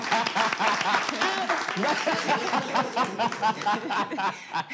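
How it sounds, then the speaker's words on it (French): A small group claps, mixed with chuckles and laughter and some voices, with the clapping uneven and fairly close. "Est-ce qu'on peut applaudir pour Océane, s'il vous plaît?"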